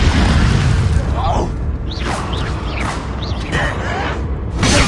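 An Incendio fire spell cast in Hogwarts Legacy bursts with a whooshing, crackling blast over a loud, busy battle soundscape, with swishing magical effects around it and voices speaking.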